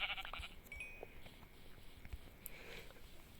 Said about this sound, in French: En priorité, on va tuer ces moutons.